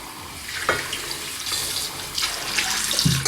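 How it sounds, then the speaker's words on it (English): Tap water runs steadily into a sink fitted with a SpaceAid drying rack organizer, a continuous close hiss with brief splashy shifts as the flow hits surfaces. "If you guys do turn on the water, let's try to get everything wet right here"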